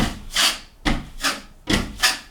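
A drywall knife spreads joint compound across a beveled drywall patch, giving three long, loud scraping strokes in a steady rhythm, each stroke rising and fading, close up with no talk.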